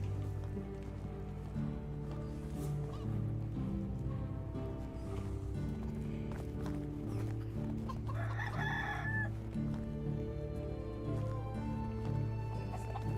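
Farm chickens in the medieval life-sim game Medieval Dynasty, with a crowing rooster and clucking hens calling intermittently near at hand over a steady bed of game music and ambience.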